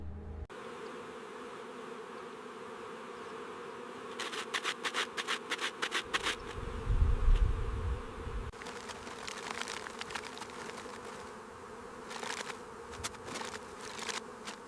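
Bee colony defending its hive on the savannah during a honey badger raid, a dense steady buzzing swarm with scratching and rustling at the nest in the middle, no voices.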